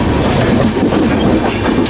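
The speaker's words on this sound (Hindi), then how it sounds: "ट्रैक साउंड सुने, ट्रैक साउंड किस तरीके का आ रहा है।" Wheels of special train 04064 clatter steadily over the track as it crosses another train on a curve between New Delhi and Gaya, a loud close rumble with faint squeals.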